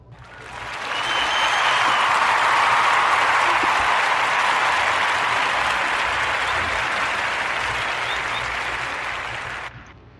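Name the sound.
clapping to celebrate podcast's 100th episode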